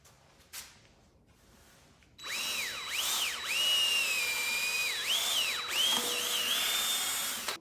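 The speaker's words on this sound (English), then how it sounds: "I'm gonna drill a hole in the side of the tire" After a quiet start, a power drill whirs loudly and steadily, its pitch dipping repeatedly as the bit bites into the side of an old Harley-Davidson Fat Boy rear tire.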